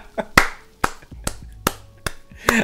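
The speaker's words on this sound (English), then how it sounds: "I'm clapping for that. I'm going to clap for that." Six sharp hand claps spaced about half a second apart, close and loud against a quiet background, with no talking over them.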